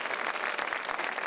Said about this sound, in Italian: un applauso alla Milena.